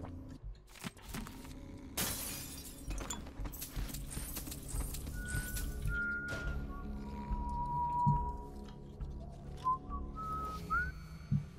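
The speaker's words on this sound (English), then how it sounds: "Who's whistling?" In Dishonored: Death of the Outsider, someone whistles a few thin, wavering tones over quiet game ambience that has scattered clinks and a couple of sharp bursts, faint and somewhat distant.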